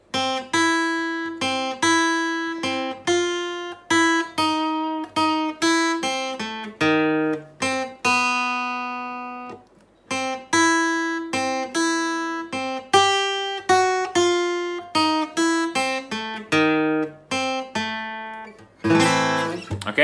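Second part of a theme picked on guitar, a melody of clear plucked single notes ringing one after another at a moderate pace, clean and close with no talk.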